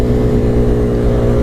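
A 180cc motorcycle engine on a test ride hums steadily and loudly at close range, a smooth continuous drone with no voices over it.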